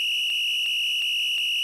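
A censor beep covering swearing on a football podcast, a sustained high-pitched tone held steadily for the whole short stretch, loud and alone.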